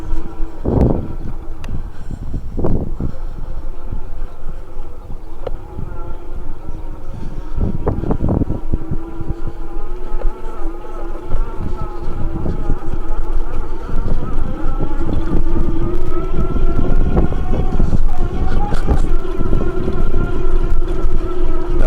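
Electric motor of an Ariel Rider Grizzly e-bike under throttle, a rising whine that climbs in pitch through the ride, mixed with heavy wind buffeting and rough bumps from the trail.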